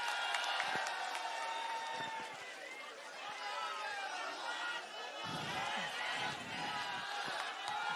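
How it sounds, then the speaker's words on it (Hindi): A rally crowd gives loud applause and cheering with a continuous dense roar of clapping and voices, some shouts rising from the mass. "जोरदार तालियां हो जाए"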